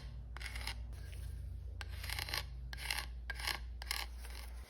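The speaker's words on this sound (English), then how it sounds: "I'll use a plastic card to test the grain fill after each coat." A plastic card scrapes across epoxy-filled red oak grain in about five short, rasping strokes. Each stroke is close and distinct over a faint low hum, with no voices.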